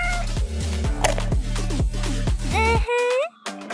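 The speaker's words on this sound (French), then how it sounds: "Je commence à m'inquiéter pour le chat." A cat meows loudly and insistently over a steady, low, droning background, its cries rising and bending in pitch before the noise cuts out near the end.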